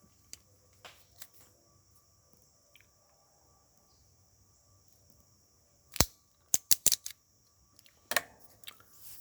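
A cutter trims the end of a Perdomo cigar with a few sharp, close clicks and snips clustered near the end, following a quiet stretch of faint handling sounds, with no speech.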